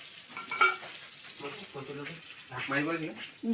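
Fish fries in oil in a wok, giving a steady close sizzle with scraping stirs and a few clatters, and a voice speaks over it.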